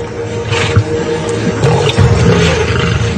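Lions roar and snarl in a fight over a carcass, a loud, rough, continuous rumble with no quiet gaps.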